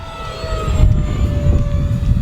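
A loud, steady turbine whine with a high tone from an RC model F-86 Sabre jet flying at full throttle, rising slightly as the engine pushes harder, close by and with no talking.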